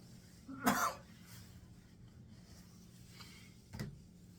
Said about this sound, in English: Excuse me a moment, cough break.